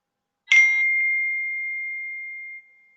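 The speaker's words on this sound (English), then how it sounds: "that was my phone" A phone notification sounds once during an indoor chat, a bright ding with a brief metallic attack that rings out in a long, clean, sustained tone before cutting off.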